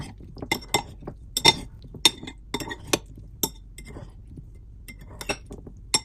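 A celery and tofu salad dressed with sesame oil is tossed in a bowl, giving a string of sharp, irregular clinks of utensil against dish, light and close, with quiet pauses between strokes.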